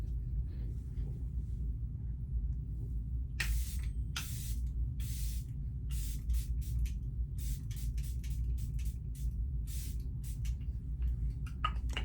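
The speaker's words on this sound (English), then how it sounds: "always with setting spray, you want to drench your face." Huda Beauty setting spray is misted onto a face in a series of short, sharp hissing bursts, some single and some in quick clusters, close and loud over a low room hum.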